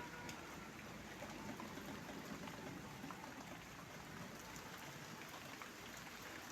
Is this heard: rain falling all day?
yes